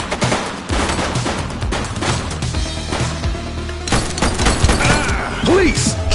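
Gunfire from a shooter in the police video game The Precinct, several sharp bursts cracking over a busy, cluttered game soundscape, with voices speaking at moments.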